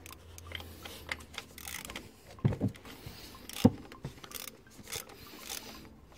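A ratchet tightens the thermostat housing bolts on a Porsche Panamera (3.6 V6 or 4.8 V8), giving a few short, close mechanical clicks in small bursts against a quiet workshop background.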